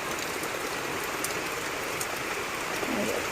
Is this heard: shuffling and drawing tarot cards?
no